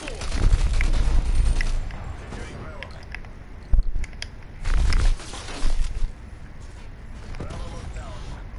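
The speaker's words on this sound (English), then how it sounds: "Who the fuck is shooting me" Call of Duty Cold War gameplay with loud, dense bursts of gunfire and heavy impacts, some close and booming, under a player's talking.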